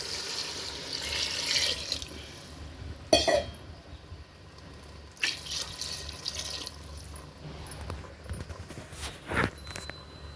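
Water, about 2.5 to 3 litres, splashes and pours into a pot for mutton paya curry in several bursts, with a cough and a few clattering knocks in between.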